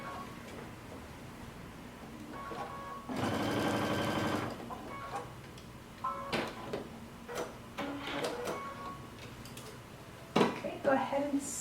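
A sewing machine bastes cape shoulder seams together, running in short bursts: one steady stitching run of about a second and a half, then scattered shorter runs and clicks of handling between pauses.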